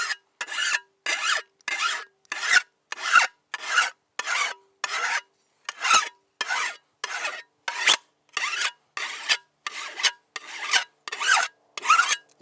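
A file rasps across the edge of a garden spade in about twenty even, rhythmic strokes, each a sharp scraping burst separated by brief silence, close and clear.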